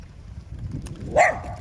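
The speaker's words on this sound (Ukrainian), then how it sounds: "Ось собака, собака охороняє." A guard dog in a Polish village farmyard gives one sharp bark at a moderate distance, standing out from the low outdoor background.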